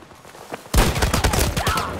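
A rapid burst of gunshots in a first-person shooter game erupts after a quiet moment and keeps going as loud, overlapping automatic fire close up.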